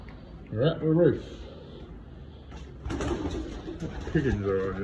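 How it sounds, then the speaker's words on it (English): Pigeons on a rooftop give three bursts of rounded, wavering coos, close and clear over a low street hum, with quiet talk in the background. "Pigeons are on it. Pigeons get everywhere."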